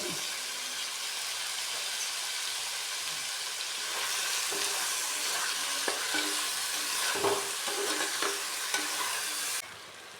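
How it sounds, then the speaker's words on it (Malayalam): Curry leaves and chopped vegetables, including cauliflower, sizzling in hot ghee in a pan, a steady loud frying hiss with occasional crackles and stirring scrapes, then a sudden drop in level near the end. "അപ്പോൾ നമുക്ക് കരിയേപ്പില ഇട്ട് കൊടുക്കാം അതിലേക്ക്"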